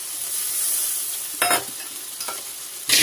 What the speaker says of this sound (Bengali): লঙ্কা গুঁড়ো, হলুদ গুঁড়ো, আদা, জিরে, লঙ্কা গুঁড়ো আর হলুদ গুঁড়ো দিয়ে এটা খানিকক্ষণ কি কষবে?